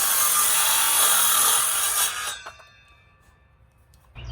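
Saw cutting through wood framing for a patio roof, a loud continuous rasping stroke for about two seconds that then stops, leaving near quiet before a faint noise returns.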